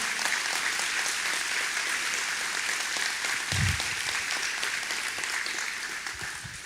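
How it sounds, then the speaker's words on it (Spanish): A church congregation applauds together, dense and steady clapping filling the hall for several seconds before easing off slightly at the end. "denle un aplauso al Señor por eso que hace en su vida"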